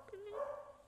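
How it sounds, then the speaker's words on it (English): A single short dog bark or yelp, drawn out into a faint whiny tone, heard at a moderate distance. "that's my dog barking."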